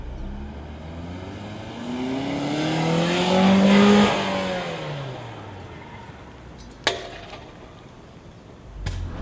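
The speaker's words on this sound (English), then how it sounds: "This guy uses the car to get speed with his scooter" A car engine accelerates hard while towing a rider on a scooter by rope, its pitch sweeping upward and fading over several seconds, followed by two sharp knocks near the end.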